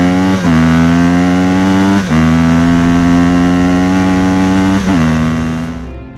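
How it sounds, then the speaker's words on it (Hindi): A loud, close motorcycle engine drones steadily, briefly shifting pitch a few times as it runs, then fading slightly at the end. "तभी बाबा और बुल्ली बाइक लेकर वहां पर पहुंचते हैं।"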